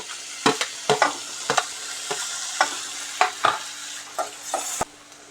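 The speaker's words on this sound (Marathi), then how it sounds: "कांदा मस्त की परतला त्यात आपण टाकायचं हे बारीक चिरलेलं टोमॅटो" Onion and finely chopped tomato are sautéed in a pan, a steady sizzle punctuated by a regular series of sharp spatula scrapes and taps, close and loud, ending with a knock before the sizzle drops.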